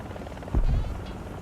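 Helicopter in the video game War Thunder, a short low rotor thump rising briefly over a steady engine drone.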